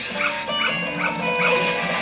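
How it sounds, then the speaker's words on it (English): A dog in The Legend of Zelda: Majora's Mask barks repeatedly in quick, evenly spaced yaps over steady game music, loud and close. "This dog wants to kill me dead."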